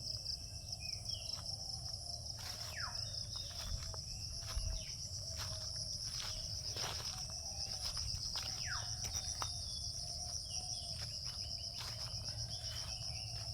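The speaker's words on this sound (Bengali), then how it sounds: "ঝিঝি পোকার ডাক শোনা যাচ্ছে।" Steady, high-pitched cricket chirring fills a rural Gazipur, Bangladesh scene continuously, with occasional faint bird chirps scattered over a low background hum.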